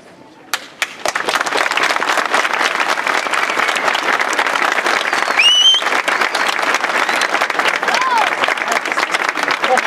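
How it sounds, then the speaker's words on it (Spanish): A large crowd at an outdoor anti-terrorism rally in Caspe, Spain applauds loudly and steadily, dense clapping filling the whole stretch, with a few whistles and cheers rising above it. "que merecen un fuerte aplauso"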